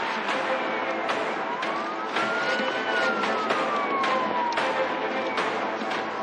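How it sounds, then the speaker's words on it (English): A police patrol car follows an Audi that is speeding along a road at night. A siren wails steadily in long rising and falling sweeps over the continuous roar of passing traffic and engine noise. There is no talking. "Within minutes, the Audi with a patrol car behind passes PC Merchant."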